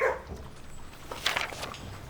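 A kennel dog in the video game Blue Prince lets out a quiet bark or yip near the middle, fairly soft against a low, steady background.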